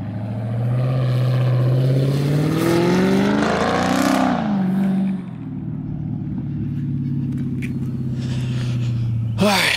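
A Scat Pack car with a straight-pipe exhaust revs loudly, its raw engine note climbing, peaking and dropping as it rushes close by, then settling into a lower sustained roar before a sharp crackle at the end.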